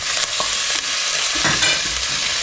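Adobo cooking in a pan in a kitchen in Hungary, with steady sizzling and frying throughout and a few clacks of a utensil stirring, close and fairly loud, with no talking.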